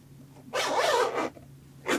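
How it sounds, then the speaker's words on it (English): A zipper is pulled closed in one quick, scratchy zip, followed by a shorter second zip moments later, close up and quiet otherwise; a zipper sewn into a pillow cover. "Now you need to close your zipper"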